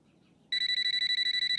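A telephone rings in a home with a steady electronic warble of rapid, evenly spaced pulses that starts abruptly after a quiet moment and carries on loud and close.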